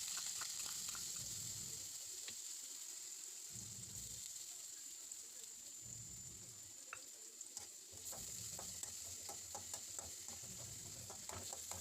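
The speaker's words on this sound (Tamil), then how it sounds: "வெங்காயம் பொன்னிறம் ஆகிற வரைக்கும் நல்லா அது எண்ணெயில் வதக்கிக்கிறேன்." Two finely chopped onions fry in hot oil and butter while being stirred, giving a steady, close sizzle broken by intermittent stirring scrapes, with no talking.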